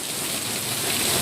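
Heavy rain pours steadily in a dense, unbroken hiss, loud and close, with no pauses across the short stretch.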